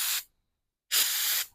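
Two short hissing bursts of mass airflow sensor cleaner sprayed into the sensor's inlet on a Nissan 370Z, close and loud, separated by a brief silence.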